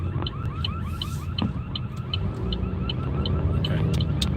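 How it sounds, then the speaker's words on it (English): A car alarm in the Philippines cycling through repeated electronic whoops and chirps, loud and continuous over a low rumble of street and traffic noise, no talking. "I thought it was a police siren, but some car alarm was going on."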